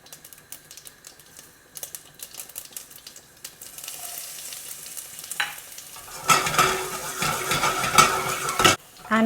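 Black mustard seeds, green chilies, ginger, garlic and curry leaves hitting hot oil for an aloo tamatar curry: faint crackling and stirring at first, then a loud, steady sizzle swells up close and holds until the end.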